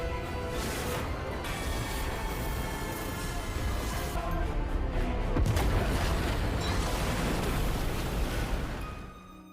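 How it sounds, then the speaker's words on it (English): Explosion in a plane crash movie scene, a dense booming crash with rumbling debris that swells in the middle and fades out at the end, loud and continuous with no talk. "But unfortunately he is killed by the explosion."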